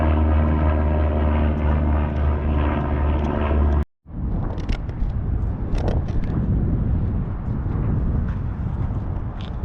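A World War II B-17 propeller bomber passes over an airfield, its steady multi-engine drone loud and continuous, then a brief cut and a rougher, broadband engine roar with scattered outdoor noise.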